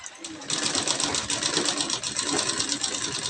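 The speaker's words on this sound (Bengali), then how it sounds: "এই যে সোজাসুজি করে আমি সেলাই করে দিচ্ছি।" Sewing machine stitching a straight seam on a decorative sleeve design: a fast, steady mechanical whir that starts abruptly after a brief quiet moment and runs close and loud without a break.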